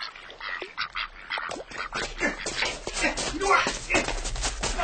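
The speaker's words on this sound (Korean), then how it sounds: "그들은 오리를 쫓다가" Ducks quacking repeatedly while being chased in a Korean radio drama, the calls busy and close, mixed with scuffling and voices talking over the commotion.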